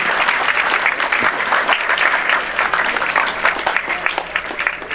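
Loud, sustained applause from an audience at a school farewell party for tenth-grade boys, dense clapping filling the space steadily with no break.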